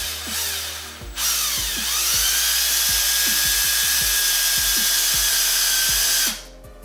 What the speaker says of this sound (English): So I'm going to drill right down the middle of my cap here